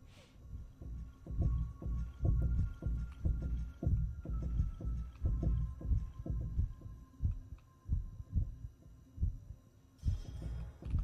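Heartbeat effect in the Backrooms video game: a steady run of deep, muffled thumps, roughly two per second, pulsing evenly over a low hum throughout.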